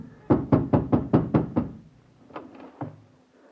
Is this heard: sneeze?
no